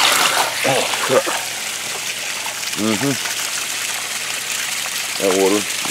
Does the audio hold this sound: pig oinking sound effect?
no